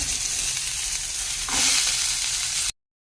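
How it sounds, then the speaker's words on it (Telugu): Loud, steady sizzling of spices hitting hot oil for tempering boiled rajma, with a brief surge of crackle midway before it cuts off abruptly. "ఉడకబెట్టిన రాజ్మా తాలింపు వేసుకుందామండి."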